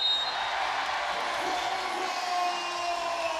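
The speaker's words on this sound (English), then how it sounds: "Crowd likes that." A crowd cheers steadily at a women's FIBA 3x3 World Cup basketball quarter-final between Mongolia and the USA, a broad continuous roar of voices with whoops, heard at a distance through the arena.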